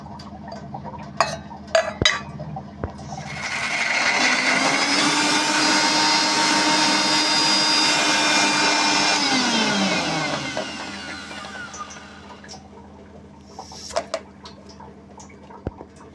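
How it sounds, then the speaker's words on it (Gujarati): A blender grinds beetroot and ginger without water, whirring steadily for several seconds, its motor pitch settling and then winding down, with scattered clicks and knocks before and after. "હવે આપણે એને પહેલાં પાણી વગર ગ્રાઇન્ડ કરશું"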